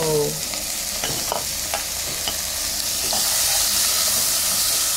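Tomato tipped into browned onion and garlic in a hot pan for pork mechado, a loud continuous sizzle with brief stirring scrapes, the frying hiss swelling toward the end.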